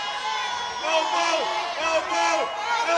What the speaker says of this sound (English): crowd shout for the elbows